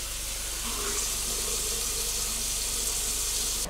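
Hot water runs steadily from a tap to wet a microfiber cloth, a close, even hiss of flowing water with no break.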